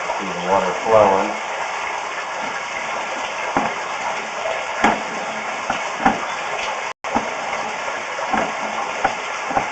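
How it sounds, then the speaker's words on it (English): Water flows through a cracked underground sewer pipe, a steady hollow rushing gush with a brief garbled burst near the start and a short dropout partway through. "See the water flowing"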